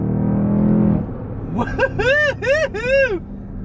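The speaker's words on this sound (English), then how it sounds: "This thing like shoots you into the next gear" A stock 2021 Dodge Durango SRT 392 revs hard, then its engine note drops at a gear change and climbs again. Excited voices and a whoop ride loudly over the engine.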